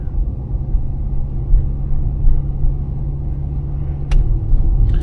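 Low, steady rumble inside a moving Infiniti G35x AWD at night, engine and road noise droning throughout with a faint click near the end.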